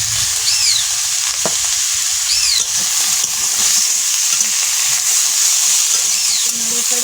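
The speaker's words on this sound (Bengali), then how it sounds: "নেড়ে চেড়ে ভেজে রাখবো।" Vegetables such as eggplant, potato and cauliflower frying in a pan with green chilies and salt, a dense close sizzle with scraping stirring strokes and occasional sharp clinks, steady and loud from start to finish.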